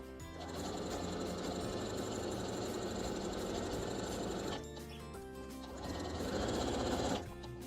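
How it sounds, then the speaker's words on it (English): Sewing machine running a 1/4 inch seam along the long edge of a fabric face mask, a steady close whirring that stops briefly partway through, then resumes for a short run. "you lift your needle and turn the fabric so that you can stitch a 1/4 inch seam along this long"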